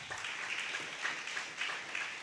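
A church congregation claps during a preaching service, a faint, distant patter of applause that swells slightly in soft waves.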